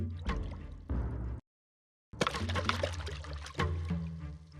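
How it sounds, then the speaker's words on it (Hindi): A cartoon splash as Krishna leaps into a river, loud bursts of pouring, rushing water broken by a brief silence, then a second, longer churning splash. "कृष्ण ने नदी में छलांग लगाई।"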